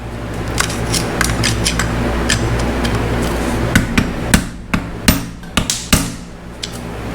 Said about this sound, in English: I'm going to take a flathead screwdriver and a hammer, and I'm just going to indent that